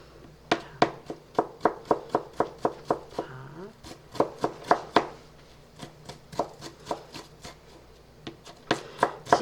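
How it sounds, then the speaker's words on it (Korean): A kitchen knife slices garlic cloves on a cutting board in close, crisp taps, about two or three per second, steady with brief pauses, and no talking. "이렇게 썰어서 오늘도 칼질을 많이 하죠"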